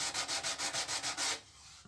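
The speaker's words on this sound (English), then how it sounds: "You can see how easy this is sanding. This is quite aggressive sandpaper." Soft basswood guitar body being sanded by hand with coarse 80 grit sandpaper, a steady rhythm of about eight quick rasping strokes followed by a pause, close and alone.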